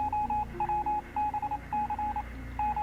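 Morse-code-style beeps for a radio effect in a role-playing game: a steady, clear single-pitched tone pulses in quick groups of short and long beeps, fairly loud over a low background hum.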